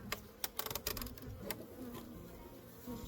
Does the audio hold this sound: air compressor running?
no